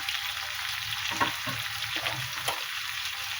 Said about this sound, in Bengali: পেঁয়াজ আলু একটু ভালো করে ভেজে নিই এর মতো ফুলকপি দিলাম